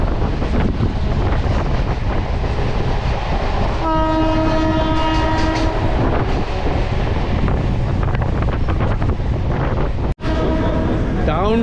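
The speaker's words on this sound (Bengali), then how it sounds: "কাঞ্চনকন্যা এক্সপ্রেস যাচ্ছে এলো এটা হচ্ছে আলিপুরদুয়ার জংশন থেকে ছাড়ে ট্রেনটা" The Kanchankanya Express from Alipurduar Junction rumbles past at close range, loud and steady, and sounds its horn in a sustained blast midway. Heavy wind buffets the microphone throughout.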